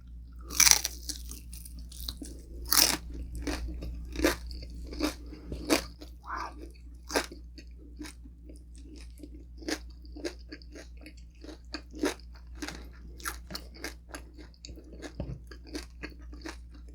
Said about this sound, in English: I'm just enjoying the crunch. Wow. It's very crunchy